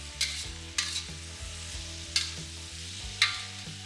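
Miso pork stir fry with tender vegetables and sauce sizzles steadily in a pan while a utensil stirs it, with four sharp scraping clacks spaced irregularly over a low continuous hum.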